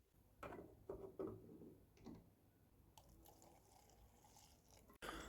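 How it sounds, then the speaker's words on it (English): Paint thinners poured into a blocked fuel pipe on an abandoned 1975 Vauxhall Viva, a faint close trickle and dribble with small handling clicks and a sharp knock near the end. "So I'm going to cut a bit of pipe and pour some thinners down the pipe."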